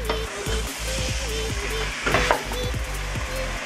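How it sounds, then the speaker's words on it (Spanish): Meat and chorizo searing in a pot for a bean stew, with a steady, close sizzle and crackle that runs throughout, joined by a few scraping stirs and no voices. "Le vamos a sellar bien la carne para que mantenga sus juguitos."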